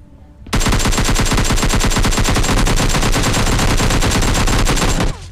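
Sustained automatic gunfire in the PUBG Mobile battle game, a loud unbroken burst of rapid shots lasting several seconds before stopping, with no talk over it.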